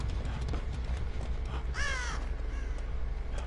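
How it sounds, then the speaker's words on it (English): In the video game Dead by Daylight, a crow caws once, loud and harsh, over a steady rumbling game ambience. "Fuck you, bird."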